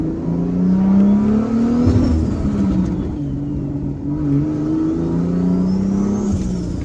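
Lexus IS300 with a swapped 2JZ engine revving hard with boost breakup, the engine note rising and stumbling in uneven surges, loud and close throughout.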